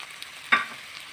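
Mashed potatoes and spices frying in a pan for crispy patties, a soft sizzle with one brief scraping stir near the middle, quiet otherwise.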